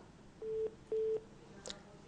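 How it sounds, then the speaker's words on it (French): Telephone dialing tones during a TV news broadcast, as the newsroom tries to call a regional official: two steady, clear beeps of equal length, then a brief faint click, over a quiet background. "Nous allons à nouveau tenter de joindre le préfet de Tout le Pleu par téléphone."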